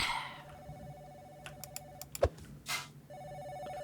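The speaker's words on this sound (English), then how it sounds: "The phone's ringing" Office telephone in the video game Office Simulator ringing in several short bursts, repeated electronic rings with a steady background hum between them, no talk.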